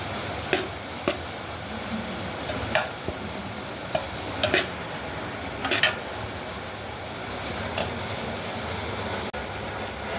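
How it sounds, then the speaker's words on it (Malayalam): Chicken biryani rice being stirred together with masala, giving scattered light scraping and clinking strokes of a spoon against the pot at irregular intervals over a steady low background, with no talking. "ഓരോ അരിക്ക് ചേർത്ത് ഇങ്ങനെ വേണം ബിരിയാണി ഇളക്കാൻ. മസാലയും കൂടി ചേർത്ത് ഇളക്കണം."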